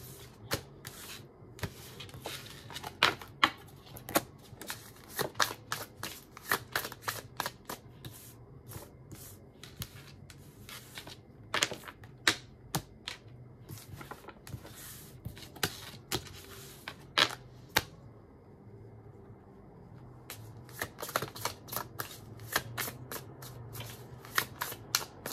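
Deck of character cards being shuffled, steady crisp riffling and slapping clicks that run through most of the stretch, with a short quiet gap, close and soft, no voices.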